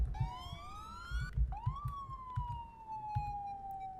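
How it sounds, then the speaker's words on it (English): A police car siren in a video game rises in two quick electronic sweeps, then holds a long, slowly falling wail. It is clear and alone, with no talk. "So if I press F, it'll give me that siren,"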